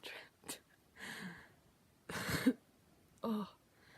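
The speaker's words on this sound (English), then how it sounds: "Oh, coughing." Several short, separate coughing and throat-clearing bursts, fairly quiet and close, spaced with pauses of near silence between them.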